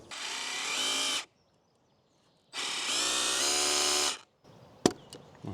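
A hammer drill drilling into a wall whines in two steady bursts of about a second and a half each, loud and close, followed by a sharp clatter.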